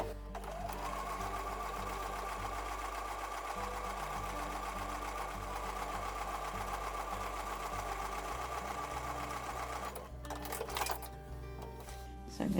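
A sewing machine stitches a quilt block for a Honeymoon pattern, its needle running in a steady, fast mechanical chatter that continues without pause, with a brief shift near the end as the fabric is adjusted.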